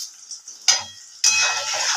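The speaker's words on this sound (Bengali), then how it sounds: "এবার ওই তেলেই পেঁয়াজ ভাজা হচ্ছে।" Onions fry in hot oil in a pan for fried rice, a bright close sizzle that jumps up twice as the pan is stirred, with faint utensil clinks.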